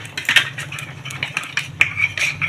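A spoon stirs half a spoon of cornflour to dissolve it, clinking and scraping briskly against a small bowl in quick, repeated taps, close and clear, with no talk.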